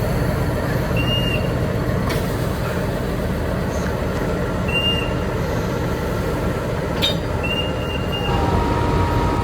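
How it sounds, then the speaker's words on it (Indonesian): Gajayana passenger train hauled by locomotive CC06-1501 of Sidotopo depot, a steady loud rumble of rolling cars with brief high wheel squeals recurring through the run. "ini dia lokomotif dinas dari kereta api Gajayana hari ini menggunakan lok CC06-1501 milik Depo Sidotopo"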